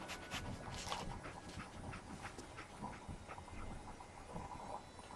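Dogmeat, the dog companion in Fallout 4, pants steadily and close by in Diamond City, a fast breathy rhythm that continues throughout over dense game ambience.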